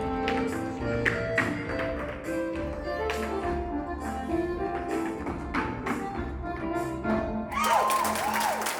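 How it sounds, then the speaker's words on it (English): A crowd after an Irish dance final round breaks into loud, dense applause, with steady clapping and cheering that swells near the end, filling a large hall. "Just to see the roar in the crowd, everyone clapping for him."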